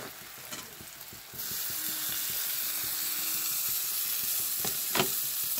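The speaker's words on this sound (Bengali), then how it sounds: "টমেটোটা দিয়ে ভালো করে ভেজে নেব আমরা, যাতে টমেটোটার কাঁচা গন্ধটা চলে যায়" Tomato added to onion and capsicum in a pan for pav bhaji sizzles steadily, the frying growing louder after a quieter start, with a few scraping stirs of a spatula and no talk.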